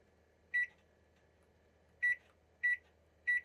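Microwave oven keypad beeps: four short electronic tones, one alone then three in quicker succession, clear and close over a faint low hum.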